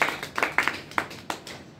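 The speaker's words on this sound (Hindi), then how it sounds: "यस, जोरदार ताली।" A scattering of handclaps from an audience at an RCM network-marketing business seminar: several sharp, separate claps over about two seconds, moderately loud and uneven, fading toward the end.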